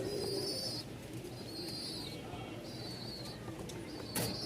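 Soft, repeated coos of fancy pigeons at a farm in Mirpur-1, in low murmuring phrases, with faint chirps and background rustle, and a brief flutter near the end.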